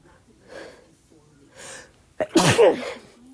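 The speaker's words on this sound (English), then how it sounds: "I have to sneeze." A single loud, sharp sneeze bursts out near the end, following two soft breathy inhales that build up to it.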